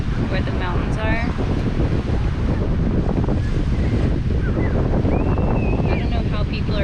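Strong wind at Lake Tahoe roars and buffets the microphone in a constant loud rush, with faint splashing surf and a voice briefly audible beneath it.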